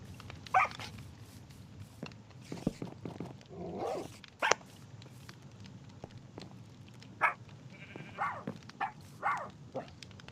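Minecraft dogs (tamed wolves) give several short barks and yips scattered across the scene, with a few whimpers, over a low game background while a voice talks in between.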